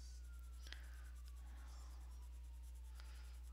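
A sharp pencil scratching across paper in soft, steady strokes, faint and close against a quiet background hum.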